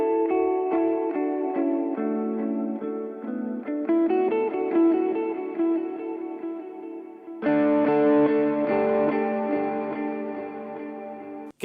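Electric guitar played through an Alexander Pedals Rewind echo delay pedal: a run of clean notes with repeating delay trails behind them, then a louder, fuller passage of ringing repeats, alone and up close.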